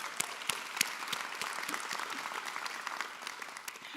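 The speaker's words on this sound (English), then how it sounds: "everyone deserves a big round of applause for that" Applause from a crowd at a university health sciences commencement ceremony, a soft, distant wash of many hands with a few sharper claps standing out, sustained evenly throughout.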